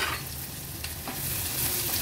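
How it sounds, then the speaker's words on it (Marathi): Crushed garlic cloves and a small piece of ginger sauté in hot oil for a tempering, a close, steady sizzle with light stirring scrapes. "आता ही फोडणी व्यवस्थित तेलावर परतून घ्यायची आहे"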